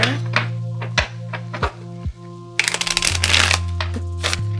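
Tarot cards are shuffled and tapped in a few quick bursts, with soft thunks and a riffling flurry over a steady low hum.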